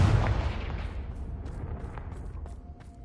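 Confringo explosive fire spell in the Hogwarts Legacy video game: a single loud booming blast right at the start that rolls off into a long rumbling decay, with faint clicks trailing behind.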